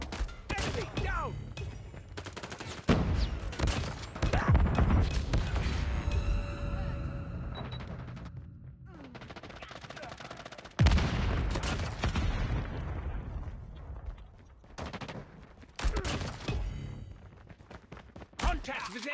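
Krm-262 shotgun fire in Call of Duty, repeated loud blasts in bursts amid other battle noise, explosions and game voice callouts throughout.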